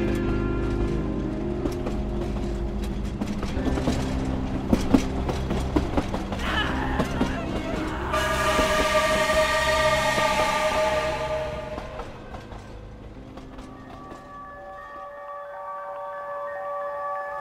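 A roaring train passes a lonely platform on a stormy night in a rural Bengal ghost story: a loud, steady rumble with rhythmic rail clatter and a bright tonal swell midway, fading to a quieter hum at the end.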